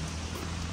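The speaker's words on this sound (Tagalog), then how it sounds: "Malakas na ulan!" Heavy rain on a rainy day in Fukuoka, Japan pours down as a dense, steady hiss of drops drumming on surfaces, loud and continuous through the short moment.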